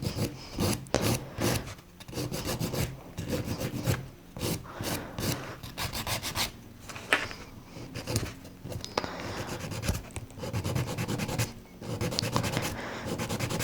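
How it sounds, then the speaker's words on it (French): A nail file is rasped back and forth over gel nail colour, removing only what is needed, making close, continuous scratchy strokes in an uneven rhythm with brief pauses and no talking. "Donc on lime juste ce qui est nécessaire."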